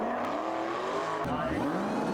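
Dodge Demon and Audi R8 launching in a drag race, engines roaring with a sharp rising surge at the launch, with faint talk mixed under the noise.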